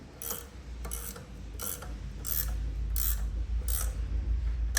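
A valve spring compressor on an LS engine is cranked, giving a series of about seven sharp ratcheting clicks at a steady rhythm over a low mechanical hum, close and fairly loud.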